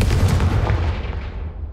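The Confringo fire spell in Hogwarts Legacy goes off as one loud, deep blast with a rumbling boom that fades away over about a second, with no talking.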